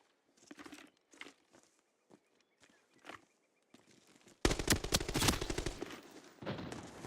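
Automatic AK-12 rifle bursts in the tactical shooter Rainbow Six Siege, several short sprays and single cracks spaced out at low level, then a louder dense stretch of fire near the end.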